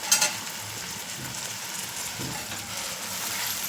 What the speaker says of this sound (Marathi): कांदा जरा लालसर होऊ द्या त्याच्यात हे टॅमॅटो पण मी टाकत आहे